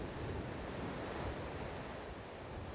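Ocean surf breaks continuously against the shore, a dense, full roar of waves with wind buffeting the microphone and no voices.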